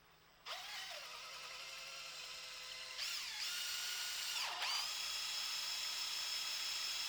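A power drill bores a hole for bolts on an outdoor movie screen frame, spinning up loudly and close in three long whining runs that sag in pitch under load before recovering, with no talking.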